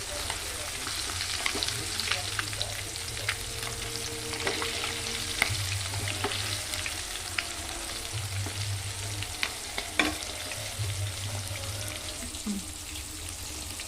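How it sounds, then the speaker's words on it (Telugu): Chicken leg pieces deep fry in hot oil, a steady close crackling sizzle with scattered pops, under an intermittent low hum. "లెగ్ పీసెస్ అన్నీ కూడా ఫ్రై అయిపోయినాయి"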